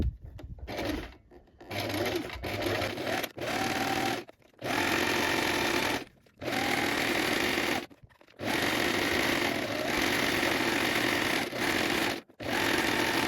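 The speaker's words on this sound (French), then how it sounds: "vous allez coudre ici à 1 cm" A sewing machine runs zigzag stitches along an elastic skirt seam with a stretch needle, buzzing steadily in several bursts separated by short pauses.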